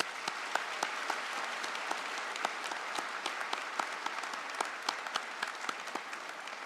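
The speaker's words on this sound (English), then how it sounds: "please join me in another round of very important applause" A crowd at a college convocation ceremony applauds steadily, a dense patter of many hands clapping at a moderate distance without letting up.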